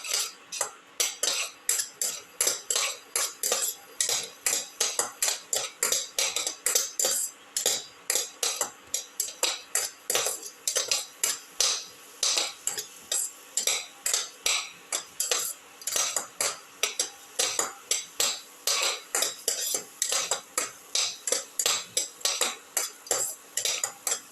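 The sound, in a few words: sautéing and stirring chicken potato mixture in a pot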